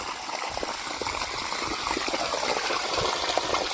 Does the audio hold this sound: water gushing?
yes